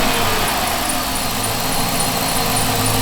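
A Dodge Magnum R/T engine idles steadily up close after its fault codes are erased, a continuous low rumble with even vibration and no voices.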